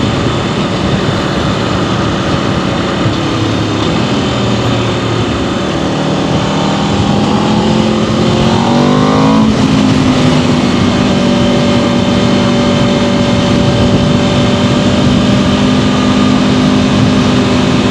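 Aprilia RSV4 Factory motorcycle engine held under loud continuous throttle, pitch sweeping upward through the revs mid-way and then holding a steady high drone.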